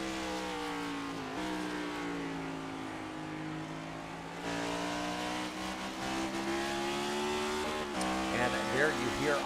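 Race car engine in a video game oval race, the number 19 car repeatedly throttling up and backing off out of the turns, a steady droning whine with shifting pitch under continuous commentary voices.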